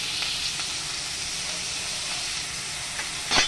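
Pork with bean sprouts and tofu stir-frying in a hot pan, a steady close sizzle running throughout with a few brief louder crackles and a clatter near the end.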